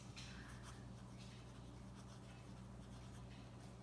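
Vintage Sheaffer 800 fountain pen writing on paper, a faint, steady soft scratch of the nib gliding continuously with no talk.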